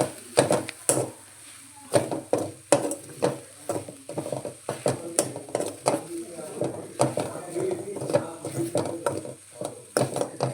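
Okra stir-fry in a pan, with repeated sharp clinks and scrapes of a spoon against metal in an irregular rhythm over a faint background sizzle, close by.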